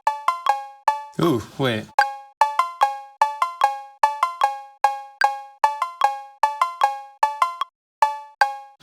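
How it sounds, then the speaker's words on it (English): Short sampled cowbell hits played as a bouncy melodic pattern on a sampler for an early-90s hip hop beat, repeating in quick rhythmic groups throughout, with a brief spoken interjection near the start. "let's take this little cowbell sound and try to find a melody that we can build a beat around"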